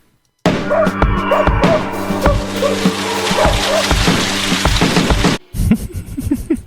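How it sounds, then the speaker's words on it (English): Driving storm rain pelts against a window, heard from inside, with heavy irregular splashes and thuds over a dense watery wash, then a short pause and a lighter burst. "Weather 2 storms driving rain on window interior acoustic"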